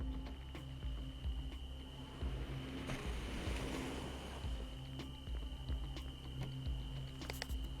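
Ocean waves wash steadily onto the shore in the driving game Jalopy, a continuous broadband surf that swells and eases under a low steady hum, with no talking.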